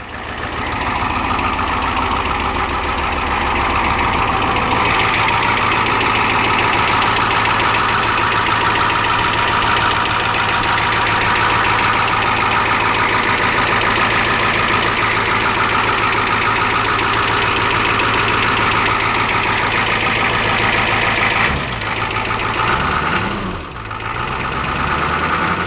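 A 1985 Ford 6.9 diesel truck engine idling just after a cold start: a steady, loud, low rumbling clatter that runs evenly for about twenty seconds, then briefly shifts and dips near the end, with no talking.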